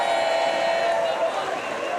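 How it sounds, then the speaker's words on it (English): A French crowd cheers and shouts at a Paralympic wheelchair table tennis match in Paris, producing a dense, steady roar that eases off slightly toward the end. "You can hear the French crowd smelling a win here"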